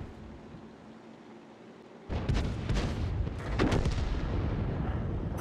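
A tank gun fires in World of Tanks, a sudden loud boom that gives way to a sustained roaring rumble with a second heavy blast soon after.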